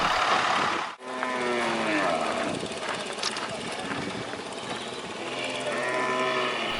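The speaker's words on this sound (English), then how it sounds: "Hundreds of cattle are being mustered by a dozen riders on horseback." Hundreds of cattle being mustered by riders on horseback low and moo amid a steady engine-like drone, with a brief dropout near the start and ongoing background rumble throughout.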